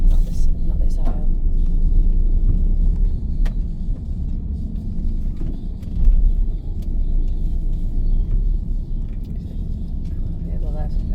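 A car on a road near a caravan park in Talacre rumbles past, a loud steady engine drone with a swell around the middle, while people talk over it.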